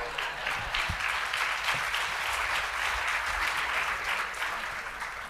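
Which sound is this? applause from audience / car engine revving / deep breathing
applause from audience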